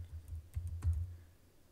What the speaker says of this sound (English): The assigned instructor, so we're going to just type in Sheridan